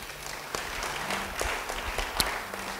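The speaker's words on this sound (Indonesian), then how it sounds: "Beri tepuk tangan bagi dia." A church congregation claps together in a steady, moderately loud round of applause, individual claps popping through the wash, with a brief low hum of voices underneath.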